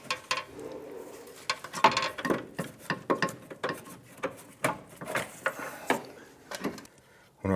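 Hand ratchet loosening and backing out the inner bolt of a rear upper control arm on a 2008-2013 Nissan Rogue, heard as a long run of close, sharp clicking strokes in quick irregular bursts with metallic rattles between them.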